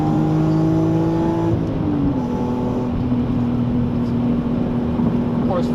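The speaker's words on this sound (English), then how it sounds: "Revving to 8 grand never gets old." A BMW E46 M3 engine drones steadily at high revs near 8,000 rpm, its pitch dipping briefly as it shifts before holding a sustained roar.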